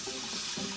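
Tap water running to rinse dirt off freshly harvested garden radishes, a steady close hiss of flowing water lasting under a second with no talking.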